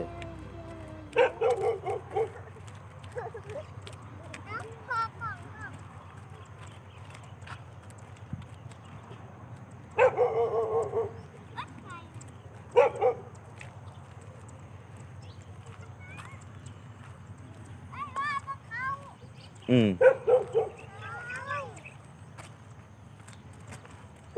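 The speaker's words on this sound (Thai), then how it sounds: "หมามันเห่า" Several short bursts of dog barking ring out at a rural grandmother's house in the morning, clustered around a few moments with quiet stretches between, over a steady low background hum and faint movement sounds.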